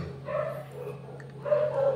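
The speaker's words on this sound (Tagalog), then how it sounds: "Tikima na ang ingay ng mga aso" Dogs bark close by, two short bursts of yapping separated by a brief pause, over a steady low hum.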